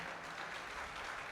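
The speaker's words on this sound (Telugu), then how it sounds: "చప్పట్లు కొట్టాలి." An audience at a Christian worship sermon claps together, a steady wash of applause held at an even level for just over a second, with no talking on top.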